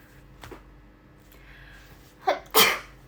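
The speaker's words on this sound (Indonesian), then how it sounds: "Aduh, bersin deh gitu emang." A single sudden sneeze bursts out after a soft intake of breath, close and loud against an otherwise quiet indoor room.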